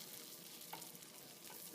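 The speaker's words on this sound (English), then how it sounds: "Now you've got your butter in there. Now it's sizzling a little bit." Butter sizzles and crackles steadily in a hot pan for chickpea flour pancakes, a soft continuous hiss with small pops, no voices.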